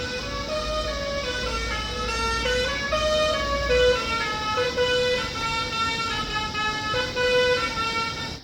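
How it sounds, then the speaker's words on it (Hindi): A loud, multi-tone truck horn blares in long sustained blasts that shift pitch, sounding for several seconds over a low road rumble on a rainy mountain road. "ऐसे हॉर्न सुनने का तो मजा ही कुछ अलग है भाई।"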